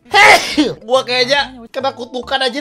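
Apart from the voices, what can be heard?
repeated sneezing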